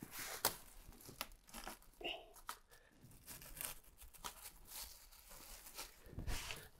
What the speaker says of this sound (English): Now I'm just gonna roll my plastic down.